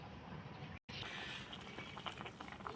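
A pot of sour bamboo shoot curry with catfish bubbling at a steady rolling boil, a soft continuous hiss and patter heard alone and fairly close.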